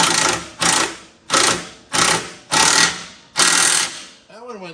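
An air impact wrench hammers a bolt on a Mack CL713 truck battery box in six loud, evenly spaced bursts, followed by a brief softer rattle at the end.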